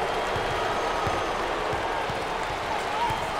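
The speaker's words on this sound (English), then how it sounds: "Well, Brad and Dick, how about this crowd? They're enjoying this close matchup" A basketball arena crowd at an NCAA tournament Final Four game keeps up a steady roar of cheering and applause throughout, loud and continuous, with faint rhythmic thumps underneath.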